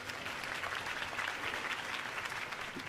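Steady crowd applause at a campaign speech for Harvey Dent in Batman: The Telltale Series, a dense, even wash of clapping that holds at a constant level for the full stretch with no voices over it.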